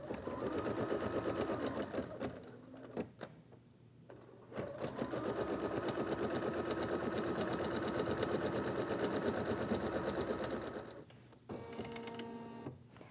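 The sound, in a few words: embroidery machine stitching a placement line on stabilizer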